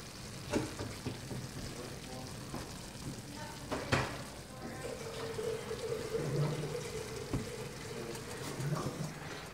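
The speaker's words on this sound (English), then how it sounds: "Our stir fry is ready." Spicy chop suey stir fry sizzling in a pan, a quiet steady crackle with occasional clatters and stirring knocks, a faint low hum underneath and a voice speaking briefly.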